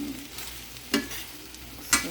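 Taco vegetables and seasoning are stirred in a pan over a low, steady background, with two short, sharp scrapes about a second apart. No one speaks.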